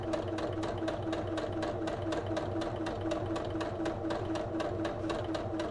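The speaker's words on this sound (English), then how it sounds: "Alright, so I'm just sewing all the way around" A sewing machine stitches steadily around a circle, its needle ticking in a fast, even rhythm over a constant motor hum, close by and on its own.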